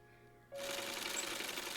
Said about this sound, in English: on a sewing machine working on a piece of clothing